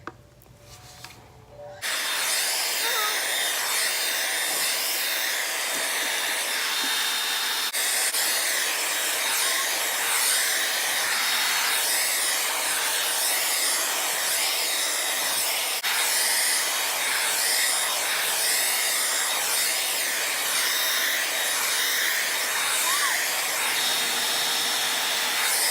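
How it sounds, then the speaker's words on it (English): A hair dryer blow-drying hair on the hot, high setting switches on after a brief quiet moment, then roars as a loud, steady, breathy rush of air that continues uninterrupted to the end. "this is the blow dry I'll be using"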